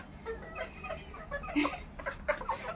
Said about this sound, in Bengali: এই যে আমার এখানে মুরগি এই যে আমি মুরগি পাখি র্যাকের ভিতরে